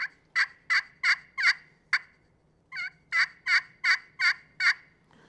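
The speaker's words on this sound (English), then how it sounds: "She's just doing a little bit of light yelping." A wild turkey hen giving light yelping: two runs of evenly spaced, clear, moderately loud yelps, about five notes then a short pause and six more, alone against quiet background.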